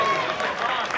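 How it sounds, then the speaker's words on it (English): Wedding guests at an autumn ceremony and speeches give a brief burst of applause, a soft, scattered clatter of hands lasting about a second, fairly distant and mixed with a little crowd murmur. "Clap the ginger hunk!"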